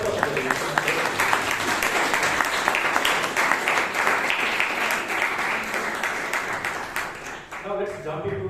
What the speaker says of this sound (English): Can we give a loud round of applause for Toastmaster of the day?